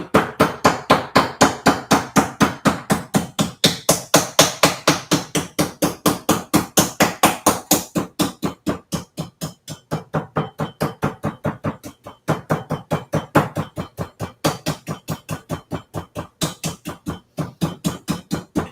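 Rapid, steady pounding of a meat hammer on steak, dozens of sharp thuds in a continuous rhythm with brief pauses, close and loud.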